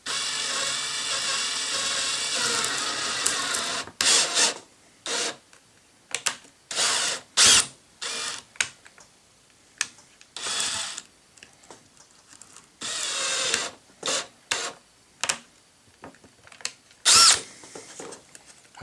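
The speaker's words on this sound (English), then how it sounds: "This drill goes nice and slow, which is exactly what I want." A slow electric drill bores a hole for a fill line install, splintering the material. A steady whir for the first few seconds gives way to many short stop-start bursts, close and fairly loud.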